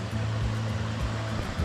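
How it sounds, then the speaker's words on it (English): A little waterfall on a creek near Mount Gilead, a soft continuous rushing of water with a low steady hum, fairly quiet and unbroken for the whole moment. "there's a little waterfall over here."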